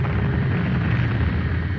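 A dramatized effect of the Tunguska explosion over Siberian forest: a deep, continuous roaring rumble heavy in the low end, loud and unbroken throughout with no distinct onset or fade.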